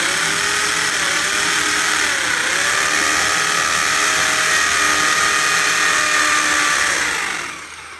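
An English-made drill bores a first hole into a wall during a washing machine installation, a loud continuous whining grind holding steady for several seconds before winding down at the end.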